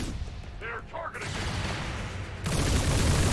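Return fire in XCOM 2 turn-based combat sounds as a sustained roar of noisy gunfire, surging louder partway through, with a brief voice-like snippet in the opening moments.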